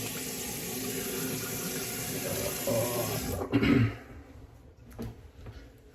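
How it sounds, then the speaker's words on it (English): Running tap water rinsing a razor during a Christmas morning shave, a steady rushing stream that swells briefly with splashing near the end before easing off, with no talking. "Let's rinse off the second time if I already did one."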